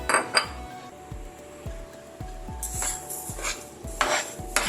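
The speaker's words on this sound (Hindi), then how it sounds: "अब ये इस मिक्सचर में हम ये जो 1 कप चीनी है ये मिला देंगे।" A spoon stirs sugar into mango pulp mixture in a metal pan, with repeated scraping strokes and clinks against the pan in a steady rhythm, close and moderately loud.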